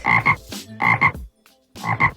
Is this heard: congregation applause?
no